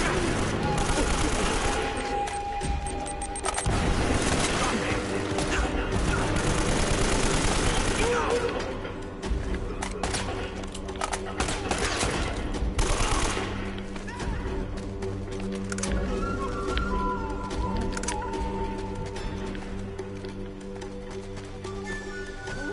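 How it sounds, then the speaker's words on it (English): Gunfire in the video game Uncharted: Drake's Fortune, with rapid bursts of shots and scattered impacts over game music and effects, fairly dense through the first half and thinning later. "Stop shooting at me!"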